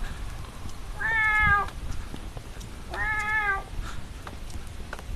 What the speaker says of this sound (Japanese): わっ、猫ちゃんだ。